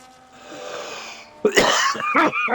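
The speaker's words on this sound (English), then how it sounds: "Sorry, coughing down the mic again." Coughing right into a microphone during a Monaco race commentary, a faint wheezy breath followed by a burst of loud, close, harsh coughs that repeat in quick succession.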